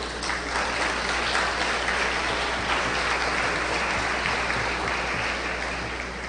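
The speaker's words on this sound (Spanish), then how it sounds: "Un aplauso al Señor, por favor." Congregation in a church applauding, a dense, even wash of clapping from many hands that holds steady and loud from start to finish.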